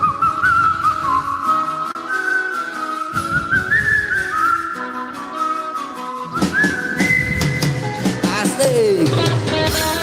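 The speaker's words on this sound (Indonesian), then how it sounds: "Ayo bersiul kita." Loud, close melodic whistling carries a wavering tune in long sustained notes, joined by a second whistler with sliding pitches toward the end, over a quiet background.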